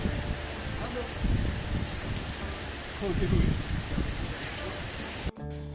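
Heavy rain pours down steadily in Dubai, a dense, close hiss with occasional louder surges of splashing before it cuts off abruptly near the end.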